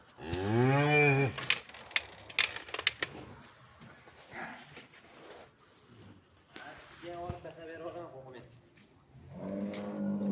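A cow moos loudly and close by, a long low bellow, then two shorter calls later on, with someone talking and jangling clatter in between.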